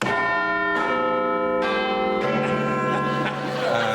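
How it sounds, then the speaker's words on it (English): Quiz show panel buzzer playing ringing bell tones, a sequence of four clear chimes struck one after another, each sustained and overlapping the last. "Let's have a round on the buzzers and bells."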